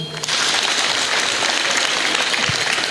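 A crowd applauds in a hall, dense steady hand clapping that starts suddenly and holds loud and continuous to the end.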